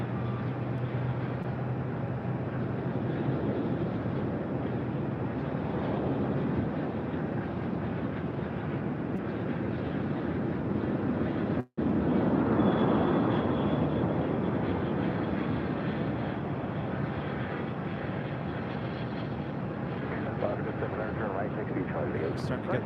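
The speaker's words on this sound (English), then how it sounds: "We just had that Alaska. 737 touching down at runway 8" An Alaska Airlines Boeing 737 from Seattle touches down on runway 8 at Phoenix airport, a steady broad jet roar that swells briefly midway and holds at a constant, fairly distant level.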